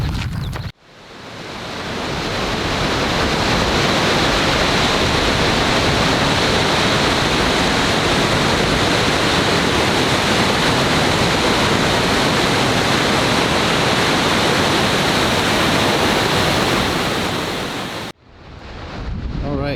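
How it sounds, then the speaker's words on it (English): Heavy pouring rain mixed with the roar of the waterfall at Falls Park in Sioux Falls, South Dakota, a loud, steady wash of noise filling the whole stretch with no voices. "So we're at Falls Park in Sioux Falls, South Dakota, and it is just pouring rain."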